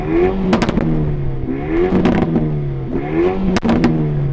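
A Renault Megane Trophy hot hatch engine revs repeatedly in rising bursts, with sharp crackling pops and bangs from the exhaust between revs, loud and close.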